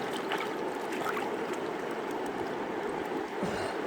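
A riffle mat from a gold sluice is swished clean in a bucket of water, giving a steady, close wash of sloshing and trickling water that runs unbroken throughout, with no talk.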